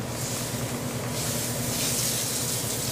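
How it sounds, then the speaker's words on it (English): Meat sizzles in an oiled pan after browning on both sides, a constant, fairly faint hissing crackle with no talk. "So it's sizzling and everything."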